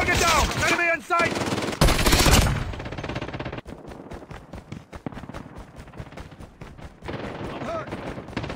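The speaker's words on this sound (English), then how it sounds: "Be advised, hostile sentry gun spotted!" A sentry gun fires in the mobile shooter Call of Duty: Mobile, a fast, evenly spaced automatic stream of loud shots following a noisy burst of in-game voice chatter and effects.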